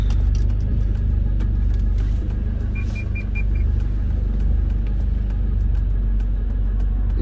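Car being driven, a loud continuous low engine and road rumble inside the cabin with steady vibration, a brief faint whistling tone in the middle, no talking.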